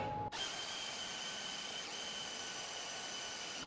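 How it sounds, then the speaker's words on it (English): A power drill bores holes into the corners of stock on an Avid CNC table, starting abruptly and holding a steady, loud, high whine for several seconds with no talk. "if they weren't there, you're going to drill out like so."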